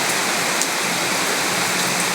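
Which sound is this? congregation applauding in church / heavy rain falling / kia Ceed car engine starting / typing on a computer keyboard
heavy rain falling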